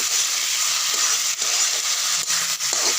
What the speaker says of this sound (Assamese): আলুখিনি দি দিলোঁ, লৰাই আছোঁ।